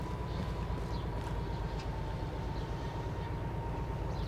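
A train in the Derail Valley railway game rolls backward with a steady, heavy low rumble and faint metallic clatter that continues without a break.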